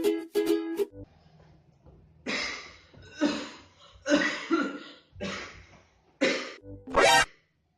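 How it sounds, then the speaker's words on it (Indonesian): A man gives a series of harsh, forced coughs in separate bursts, about seven in all, close and loud, with short quiet gaps and a throaty clearing sound among them. "Batuk."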